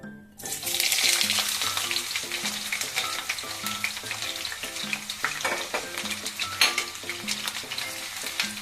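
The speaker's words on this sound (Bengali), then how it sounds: "পেঁয়াজটাকে ব্রাউন করে ভেজে নেব।" Onions sizzle loudly in hot oil with cloves, cardamom and cinnamon, stirred with repeated scraping strokes of a spatula against the pan, a steady close frying hiss throughout with no talking.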